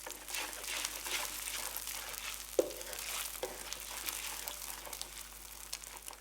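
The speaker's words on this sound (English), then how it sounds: "Blend the eggs through the chili paste and oil until they start to cook through" Eggs blended through chili paste and oil in a wok sizzle quietly with a soft, continuous fry and light crackle, broken by a single sharp clink of a utensil against the pan partway through.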